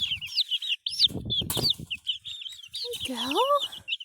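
Young chickens cluck and peep in a rapid chorus of chirps while being moved back to the flock, with wing flaps and handling bumps mixed in and a louder drawn-out squawk near the end.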